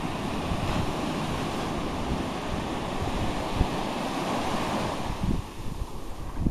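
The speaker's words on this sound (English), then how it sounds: "We made it. We're at the ocean." Ocean waves wash ashore at the beach in Kill Devil Hills, North Carolina, a steady, broad roar of surf mixed with gusty wind buffeting the microphone, with a heavier crash near the end.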